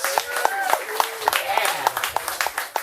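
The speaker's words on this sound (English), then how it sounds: "Give him another round of applause." Audience applause at a live comedy show, sparse claps with loud cheering whoops over a crowd, fairly close and energetic.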